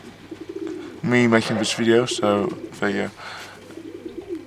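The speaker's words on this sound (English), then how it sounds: "It's a female young dove." A young female dove coos several times in close, clear throaty phrases, with a person speaking briefly in between.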